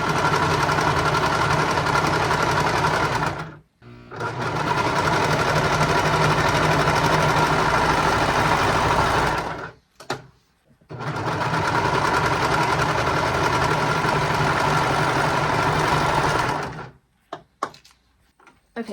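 A sewing machine stitches the back panel of a romper in three long, loud, continuous runs separated by brief pauses, its motor whirring steadily at close range.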